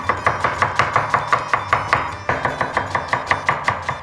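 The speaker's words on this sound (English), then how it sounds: "Start chopping the onion." Quick, even knife strokes chop a red onion on a cutting board, a steady rhythm of about four cuts per second, close and clear with no voices.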